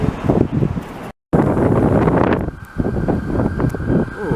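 Strong wind blows straight into the microphone outdoors on a Montreal street, with loud rough buffeting, one abrupt dropout and a thin steady tone in the later part.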